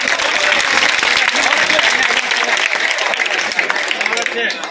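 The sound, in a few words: audience applause at a mushaira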